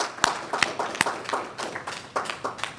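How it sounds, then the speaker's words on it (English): Scattered, sparse clapping at an annual general meeting, a handful of distinct sharp claps spaced unevenly, sounding small and somewhat distant rather than a full crowd. "So let us give them a round of applause."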